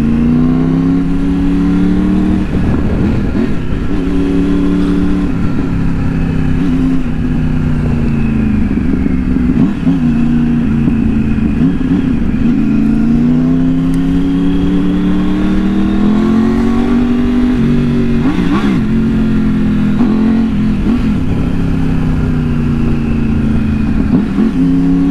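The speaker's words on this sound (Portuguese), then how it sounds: "Uma Tiger e uma 1250 saindo da concessionária sem placa no rolê." A Triumph Tiger and a 1250 motorcycle, both new and unregistered, ride off from a dealership with traction control and ABS switched off. Their engines drone steadily and close by, with the pitch repeatedly rising and falling through gear changes and acceleration.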